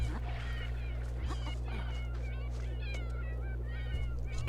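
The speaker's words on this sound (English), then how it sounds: "You can already start hearing all the cats coming in, meowing their heads off." Many cats in a life-simulation video game meow over and over, overlapping high cries scattered densely across the scene above a constant low hum.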